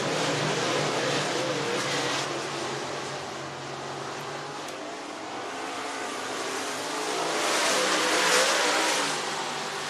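Race cars roaring down the back straightaway at Clarksville Speedway in Tennessee, a dense, steady wash of engine noise that swells and fades slightly as the pack passes, loud and continuous with no talk.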